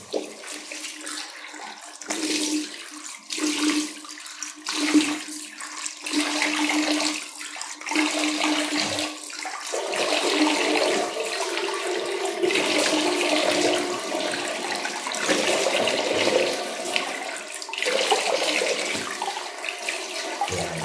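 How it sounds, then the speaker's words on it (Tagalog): Water runs from a tap while soap is rinsed off a face, heard as continuous close splashing and gushing that shifts in strength with the hands' movement, with no talking over it. "after natin mahugasan, mabanlawan yung ating sabon sa ating mukha"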